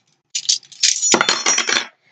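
A large lot of vintage metal cutlery, thrifted and handled in a heap, gives off bright, loud, close jangling and clinking, with dense overlapping metallic chimes for about a second and a half and nobody talking.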